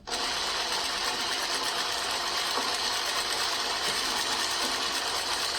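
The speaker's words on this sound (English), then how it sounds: "as you're sewing these and you're lining up on that line, you want to be making sure that that needle is hitting right in there" A sewing machine runs steadily, stitching bias binding strips for a quilt, its needle mechanism whirring at an even, close and loud pace without pause.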